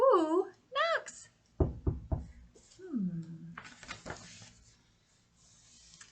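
Three crisp, loud knocks in a quick row, as on a door, set between expressive spoken narration with animal-like vocal swoops.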